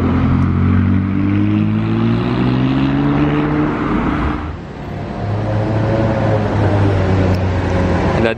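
A white supercar drives past on a Monaco street with a loud, close engine drone whose pitch climbs steadily, dipping briefly midway before the roar returns and holds.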